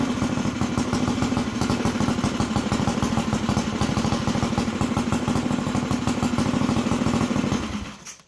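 A small engine on a homemade two-wheel-drive minibike with a freshly tuned carburetor runs close by with a fast, steady, chugging idle, loud throughout, then dies away at the end.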